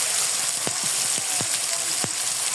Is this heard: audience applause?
no